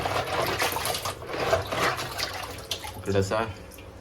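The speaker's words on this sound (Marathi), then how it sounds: "इकडं सर्व पाण्यातून स्वच्छ धुवून घेते बघा" River crabs are rinsed in water, with close sloshing, splashing and trickling that runs continuously; a voice talks over the washing.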